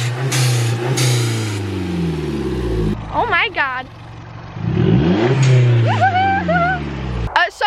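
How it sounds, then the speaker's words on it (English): An Audi A1 fitted with an aftermarket Forge blow-off valve revs loudly, with rising and falling engine pitch and a sharp venting burst near the end, while a voice exclaims over it. "hopefully that'll probably make the blow-off valve sound a little bit louder, a bit different"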